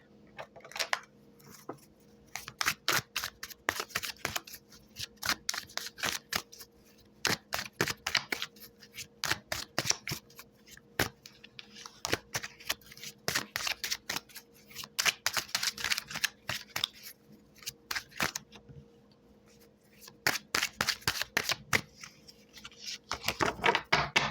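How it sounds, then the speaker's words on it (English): Rapid riffling and snapping of cards in repeated bursts, close by, with brief pauses between shuffles and a faint steady hum underneath. "And now I will shuffle the Success deck."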